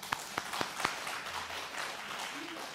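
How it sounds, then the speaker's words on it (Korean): Scattered claps ring out at a birthday celebration during a Catholic Mass, starting as a few sharp, distinct hand claps and then blending into soft, diffuse applause from a congregation. "우리 박수 한번 쳐요."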